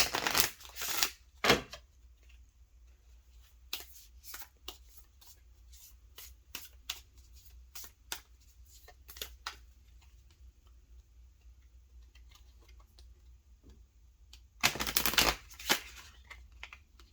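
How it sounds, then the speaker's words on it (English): Quick bursts of tarot card shuffling, a loud riffle at the start and another later, with light tapping and clicking in between against a quiet background. "we take our major arcana and give it a good shuffle."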